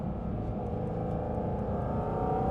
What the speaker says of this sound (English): you get a lot of that nice flat six tone from the driver's seat